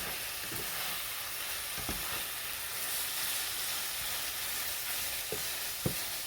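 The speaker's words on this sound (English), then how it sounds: "Hopefully you can hear that frying of that meat." Ground meat sizzles and fries steadily in a non-stick pan for taco bake, a continuous close hiss with a few soft clicks and pops, no voices.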